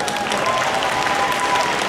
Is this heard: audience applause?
yes